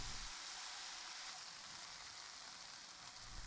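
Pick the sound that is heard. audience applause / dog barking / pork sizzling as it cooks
pork sizzling as it cooks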